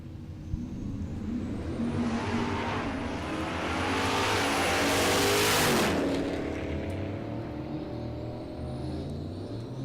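Drag racing cars launch side by side down the strip at a dragway during race week, a loud sustained engine roar that swells to a peak around the middle and then fades as they pull away, with no talk.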